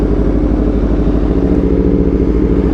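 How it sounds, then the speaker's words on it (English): An Aprilia RSV4 motorcycle fitted with an SC-Project CRT exhaust rumbles loud and close while riding. A steady, throbbing low engine note holds throughout with no talking. "so you guys can hear the exhaust sounds more"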